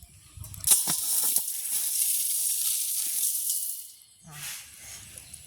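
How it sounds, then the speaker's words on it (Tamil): Dry-roasting spices and dried chillies in a pan for homemade chilli powder in a village kitchen, a bright crackling sizzle that runs steadily for several seconds, fades, then flares up again briefly. "நாங்கள் இப்போ ரஞ்சி சிறக்கையும் இதோட சேர்த்து வறுப்போம்."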